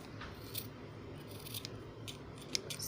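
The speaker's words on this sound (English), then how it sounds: "take your scissor and trim the edges" Scissors trimming the uneven edges of a handmade friendship bracelet or rakhi, giving faint, quick snips close by over a quiet background.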